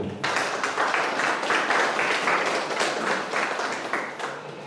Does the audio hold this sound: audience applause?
yes